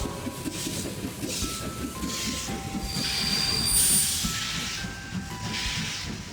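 A train engine runs steadily in a mobile train racing game, a continuous rumbling and hissing drone with faint tonal game sounds layered over it, no talk.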